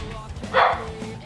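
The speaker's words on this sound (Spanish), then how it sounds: "Son los perros de Gerald, tío, que vive ahí, en la casa de Gerald" Dogs bark inside the GTA V video game, one short loud burst of barking rising midway through, set against a low steady game background with a murmur of voices.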